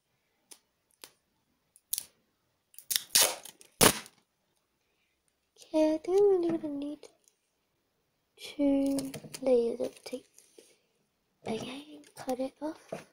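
Scissors snipping through tape while making a homemade paper squishy, a few sharp close clicks and cuts early on, followed by talking.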